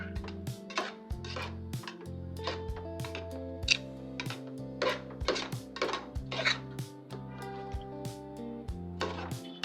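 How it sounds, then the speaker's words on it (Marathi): Rice stirred and sautéed with vegetables in a pressure cooker, with repeated close metallic clinks and scrapes of a spatula against the pot at an irregular rhythm over sustained background tones, no talking. "ती आता मस्त नीट व्यवस्थित या सगळ्या भाज्यांसोबत परतून घेऊया"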